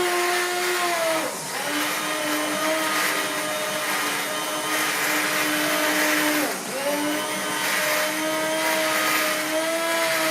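A blender purées apple cauliflower curry soup until creamy: a loud, steady motor whine with rich harmonics runs the whole time, briefly dipping twice as the blades load and recover, with no talking.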